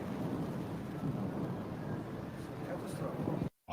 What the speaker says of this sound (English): So I got caught in a violent thunderstorm.